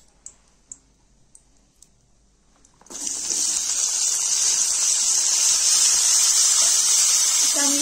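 Eggplant pieces, with turmeric already in the pan, hit the hot oil and burst into a loud, steady sizzle that carries on unbroken after a few soft clicks and taps.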